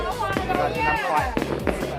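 Fireworks bursting over Hoàng Su Phì in the Hà Giang highlands on New Year's Eve crackle and pop repeatedly at mid distance, several sharp reports scattered under a voice talking.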